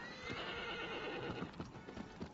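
Hoofbeats of a horse in the video game Shadow of the Colossus, a steady clip-clop of galloping hooves mixed with a whinny, at moderate volume and close.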